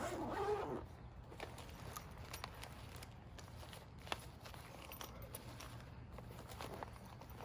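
Two zippers on a My Medic IFAK large first aid kit pulled open, faint close scratchy rasps in short strokes over a steady low background hum.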